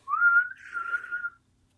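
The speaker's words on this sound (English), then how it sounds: "Can you whistle inwards?" A person whistles inwards, drawing breath to produce one wavering tone that slides up, dips and holds for about a second before stopping, close and clear with no talk.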